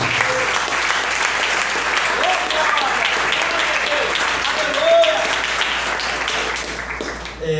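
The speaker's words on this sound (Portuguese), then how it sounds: "batendo uma linda salva de palmas para Jesus" A church congregation applauding for Jesus during a service, loud sustained clapping from a crowd with a faint voice and a few tonal sounds underneath, fading slightly toward the end.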